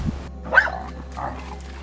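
A dog gives a couple of short barks or yips, one sharper bark followed by a softer one, against a low steady hum.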